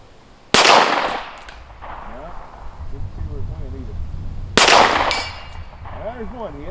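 Two sharp, loud shots from a Smith & Wesson Model 10 .38 Special revolver, fired about four seconds apart at an outdoor range, each followed by a ringing decay, with someone talking quietly between them.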